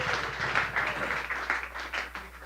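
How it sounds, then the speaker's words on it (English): Applause from a small audience at a high school football touchdown club coaches show, honoring a senior player; a steady, moderate patter of clapping with no voices over it. "let's give a big round of applause for our senior, Mr. Jackson Bray"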